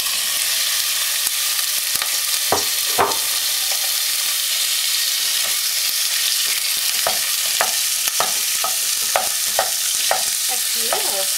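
Minced meat frying in olive oil for kibbeh makes a loud, continuous hiss near the pan, with sharp spatula scrapes and clicks that grow more frequent toward the end. No voices are heard.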